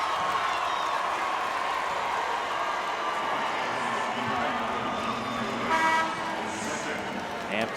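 Hampton basketball crowd at a game against Norfolk State, a dense, steady roar of cheering and noise sustained throughout, with horn-like toots and a brief swell near the end.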